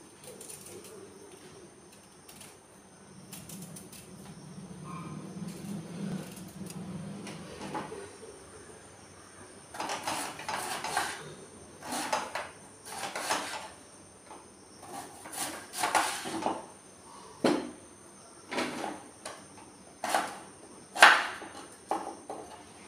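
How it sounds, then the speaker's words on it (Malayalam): Knife chopping elephant foot yam into small pieces for a Kerala kalan, a run of sharp, fairly close chopping taps that speed into an uneven rhythm in the second half, after a quieter stretch of low rustling. "ഇനി ചേന ചെറുതായിട്ട് കട്ട് ചെയ്യാം."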